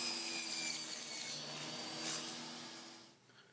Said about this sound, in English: Cutting them square with my sled.